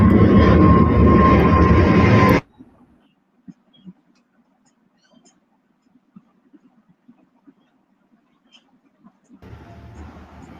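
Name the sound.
airplanes taking off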